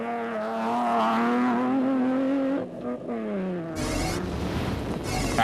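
Engine of the AIM Toyota Hilux off-road race truck in a desert rally, revving loudly with rising and falling pitch through gear shifts, then giving way to a rough, broadband rumble and rattle as it pounds over rough ground.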